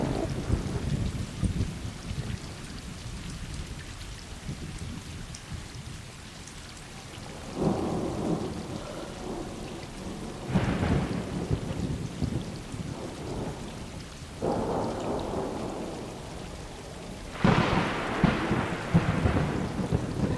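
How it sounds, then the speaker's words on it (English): Thunderstorm scene in the video game Stray: steady rain patters on surfaces while several rolls of thunder rumble and swell at intervals, with no voices. "start off on a dark and stormy night"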